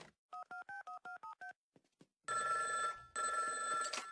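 A telephone dials a prank call in The Simpsons with eight short DTMF tones in quick succession, then a pause followed by two long ringing tones on the line, close and clear.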